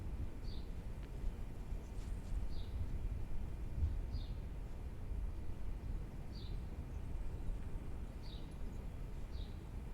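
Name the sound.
sparrows chirping outside a window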